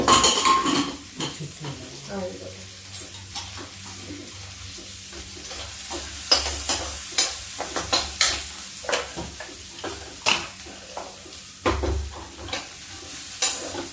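Garlic, ginger and onions fry over high heat in a pan, a soft sizzle running beneath repeated scrapes and clinks of a metal spoon stirring against the pan.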